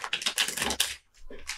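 A tarot card deck is shuffled by hand, giving quick papery riffles and flicks in short bursts with a brief pause, close and fairly quiet.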